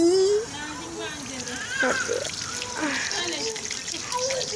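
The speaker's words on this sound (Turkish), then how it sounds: "Bunu yıkayacağız" A squishy toy is washed under running tap water, which splashes and trickles steadily throughout while someone talks over it.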